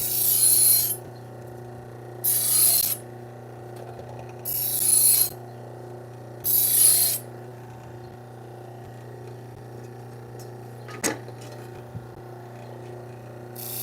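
A kitchen knife from a butcher block set is drawn edge-leading across a sharpening stone in four distinct scraping passes, close and evenly spaced, followed by quieter handling noises.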